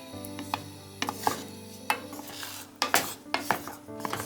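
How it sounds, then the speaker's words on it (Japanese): Strawberries simmering in a pot over medium heat, stirred constantly with a spatula for sugar-free jam: repeated close scraping and clacking knocks of the spatula against the pot at an irregular pace, with soft bubbling between the strokes. "中火にかけてヘラで絶えず混ぜながら煮ていきましょう"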